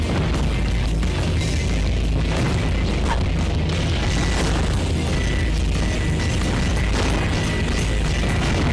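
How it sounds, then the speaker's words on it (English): Missile explosions in the video game Sonic Adventure 2, a dense, continuous barrage of loud booming blasts and bursts layered over game audio, constant and heavy throughout. "I just have to keep shooting with missiles"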